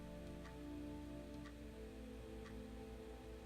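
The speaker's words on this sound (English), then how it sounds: "That clock is annoying. It's too loud." Ticking clock in the video game The Cat Lady, sharp ticks about once per second, faint and steady over a low droning background hum.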